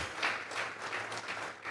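A church congregation claps together in praise to God, a dense, steady wash of applause filling the room.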